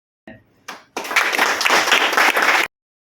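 Members of a group clap for newly nominated committee members at a meeting, first a few scattered claps and then a burst of close, dense applause lasting under two seconds before it stops abruptly.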